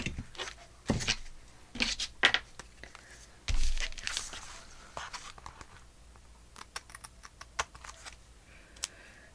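Paper from a full book page is cut in a run of short, crisp snips and rustles, close and fairly quiet, with brief handling sounds between cuts.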